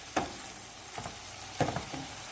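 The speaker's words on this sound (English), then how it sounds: "Let's just stir that all in, mix it all together." Korean beef rice bowl mixture being stirred in a hot pan: a few separate scraping strokes over a soft continuous sizzle, fairly quiet and close.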